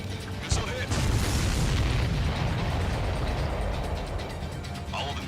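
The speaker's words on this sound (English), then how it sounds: "Missile hit." Missile impact explosion in the Ace Combat 7: Skies Unknown flight combat game, a sharp burst followed by a loud, sustained rumbling roar that slowly fades over several seconds.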